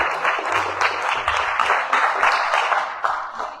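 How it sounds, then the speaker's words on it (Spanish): A church congregation applauds during a Spanish-language sermon, a steady wash of clapping with uneven swells that carries on for a few seconds, at moderate level with a preacher's voice faintly underneath. "denle el aplauso al Señor."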